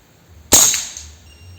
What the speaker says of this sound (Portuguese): Vou fazer mais um disparo.